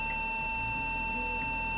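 A 1988 Atari PC that has locked up emits a harsh, unbroken electronic beep, a constant piercing tone with a faint buzzing hum beneath, steady and close for the whole stretch.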